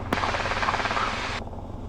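A helicopter in flight near Watsonville during a private pilot check ride, heard from the cabin as a steady rotor and engine drone with a rhythmic beat that cuts off abruptly near the end.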